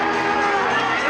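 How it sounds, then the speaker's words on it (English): A large outdoor crowd at a monster truck show at Buck Motorsports Park roars and cheers in a dense, continuous wash of voices. "Give a round of applause."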